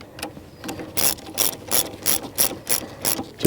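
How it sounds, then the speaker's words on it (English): A hand ratchet tightens the battery hold-down on a 2019 Chevy Silverado, giving a close, steady run of about eight crisp clicking pawl bursts in even rhythm with no talk. "And then tighten that one down."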